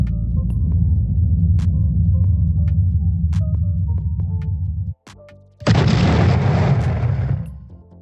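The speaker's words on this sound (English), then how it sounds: "I'm going to search for a bomb explosion sound effect" A bomb explosion sound effect with a deep, sustained rumbling boom, a sudden cut to near-silence, then a second loud burst with a hissing roar that slowly trails off.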